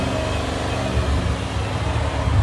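A 2003 Ford Thunderbird 3.9L V8 with Borla S-Type dual exhaust produces a deep, steady exhaust rumble up close, swelling slightly near the end, with no voices.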